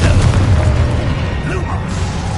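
Confringo fire spell in the Hogwarts Legacy wizarding video game, a deep booming blast that rumbles loudly at the start and then trails off into a lingering magical whoosh.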